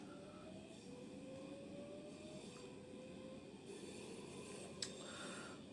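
A West Midlands Railway train pulls out of University station in Birmingham, a steady rumbling roll with a rising whine and faint wheel squeal, heard at moderate distance over constant platform ambience with no speech.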